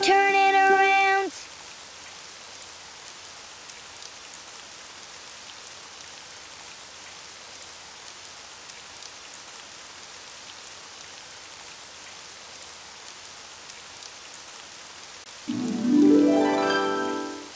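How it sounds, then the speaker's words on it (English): Steady rain patters outside, a broad continuous wash running alone for most of the stretch, framed by brief bursts of louder sound at the start and end. "Oh, it's raining outside."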